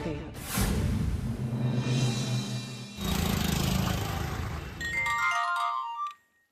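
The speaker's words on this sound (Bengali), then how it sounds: "তিতির তোমার ফোন বাজছে" A phone's ringtone chimes with tonal, melodic notes over a dense, loud stretch of mixed sound, continuing for several seconds before cutting off abruptly near the end.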